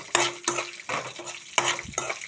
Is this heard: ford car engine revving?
no